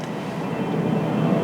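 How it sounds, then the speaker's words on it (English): A big jet airplane passes overhead, a steady broad roar that swells slightly over a second and a half, with no voices. "There's a big jet."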